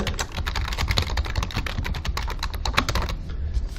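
Rapid typing on a computer keyboard while entering an email address, a dense run of close, crisp key clicks that slows near the end.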